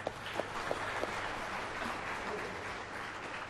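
An audience at a Malaysian university forum applauds a professor being introduced, a few distinct claps opening into a steady, moderately loud patter of many hands that carries evenly to the end.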